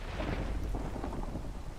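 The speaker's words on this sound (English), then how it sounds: "Oh, is it raining?" Rain and thunder in the video game Minecraft, heard as a dense, continuous rumbling wash of rainfall with a low thunder roll, steady and fairly loud for the whole short stretch.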